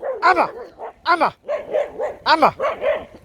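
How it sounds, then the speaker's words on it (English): A collie in a woodland walk area barks repeatedly at close range in sharp, loud bursts. Higher yips and whining barks mix in, forming an uneven run of about eight calls. "Why does she always barks at someone who's running for some reason"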